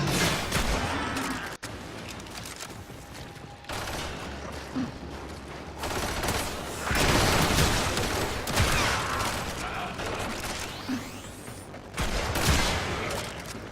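Tigris Prime shotgun blasts in the Warframe video game, loud repeated booming shots with mechanical reload clicks over a constant dense bed of combat noise, with no voices.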